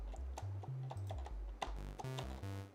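Fast clicks of a computer keyboard resting on a trackpad, a quick irregular run of sharp ticks over a steady low sine-wave synth tone.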